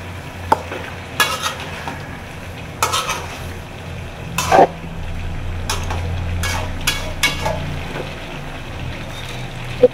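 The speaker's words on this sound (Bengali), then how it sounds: "এই যে আমি আবার একটু ঢাকনাটা সরিয়ে সবজিগুলো একটু নেড়ে দিচ্ছি" Winter vegetables are stirred in an uncovered pot for a vegetarian dish, giving soft sizzling under scattered clinks and scrapes of a utensil against the pot.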